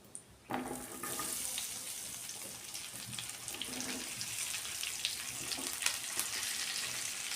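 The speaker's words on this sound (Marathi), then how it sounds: "तेलामध्ये ती व्यवस्थित फ्राय करून घ्यायची" Okra (bhindi) frying in hot oil with cumin, giving a steady, close crackling sizzle that starts abruptly after a brief quiet moment and continues evenly throughout, with occasional sharper pops.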